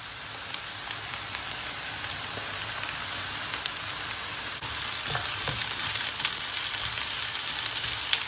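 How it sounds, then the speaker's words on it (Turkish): Potatoes and onions frying together in a pan give a steady, close sizzle with crackling, growing a little louder and busier partway through. "Patatesleri soğanla beraber kavurma işlemine başladık."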